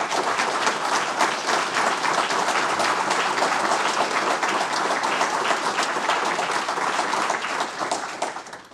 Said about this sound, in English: So please join me in a round of applause for that act.